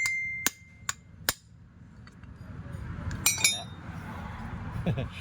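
Metallic clinks and taps from a socket tool against a Yamaha R15 motorcycle engine during repair work, a few sharp strikes early then a couple more later, close up over a low background rumble.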